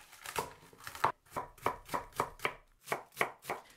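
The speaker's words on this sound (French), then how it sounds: "je coupe grossièrement 150 g d'épinards, j'émince 150 g de choux chinois" A knife chops spinach and Chinese cabbage on a cutting board, about a dozen crisp, evenly spaced strikes at a brisk rhythm, close and clear with no voices.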